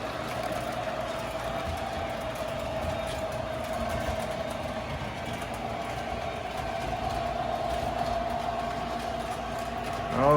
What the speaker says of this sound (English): Oh man, nothing like having fun with your trains.